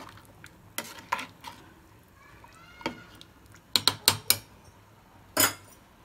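A spoon scrapes and clinks against a pot while chicken biryani is mixed, irregular close knocks and scrapes in short bursts with quiet gaps.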